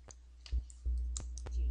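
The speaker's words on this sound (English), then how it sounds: "we can start typing our keywords into the edit box" Keys tapped on a computer keyboard while entering search keywords into an edit box, heard as a few sharp, separate clicks at an uneven typing pace, close and fairly quiet, with no talking.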